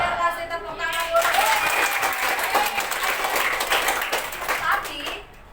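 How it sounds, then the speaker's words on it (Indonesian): Clapping from a classroom of students, a dense burst of applause lasting several seconds with young voices calling out over it before it stops abruptly. "Kasih tepuk tangan dulu."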